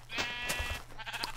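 A sheep in the video game Our World gives a close, wavering bleat that lasts about a second, with a low background hum beneath it.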